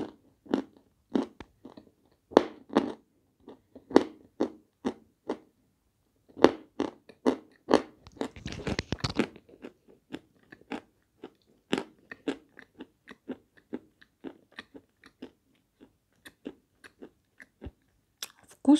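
Dry packaged cakes of three kinds (Shedevr, Fenix, Belgorodsky) being bitten and chewed close up, with crisp repeated crunches in a steady rhythm and a denser burst of crackling partway through, no talking.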